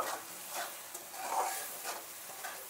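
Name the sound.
stirring fish roe curry in a pan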